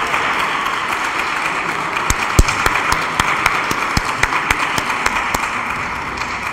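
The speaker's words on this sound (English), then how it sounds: "Let us clap hands for Nelsiwe Shiba for Shiny Groceries" An audience at a regional business tour event claps for a grocery business presenter, with a steady wash of applause and sharp individual claps popping out near the microphone.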